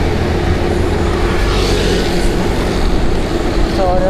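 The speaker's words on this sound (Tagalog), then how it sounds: "Ang laki ng garbage truck." A large garbage truck rolls past on a road at night, heard from a bicycle as a loud, steady broadband rumble and road roar lasting several seconds.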